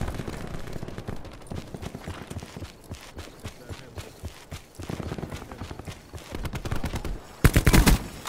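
Rapid gunfire from an online Black Ops 4 Team Deathmatch round on the Firing Range night map, with dense bursts of shots through the clip and a loud, close volley near the end.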